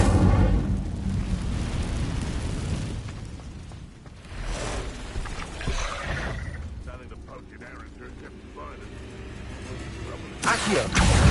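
Incendio fire spell cast in Hogwarts Legacy, a loud sustained roaring burst of flame that swells, dips, and flares again with a sharp crackle near the end.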